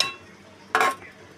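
Two chicken pieces dropped into water in a pressure cooker pot for homemade chicken soup, a single short splash and clatter standing out briefly amid quiet kitchen background.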